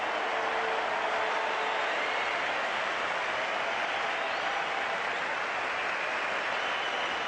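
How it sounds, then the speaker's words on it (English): A cricket crowd at an Australia versus West Indies test match roaring and clapping, a dense, continuous wash of cheering and applause that stays loud throughout with no voice above it. "The crowd roars."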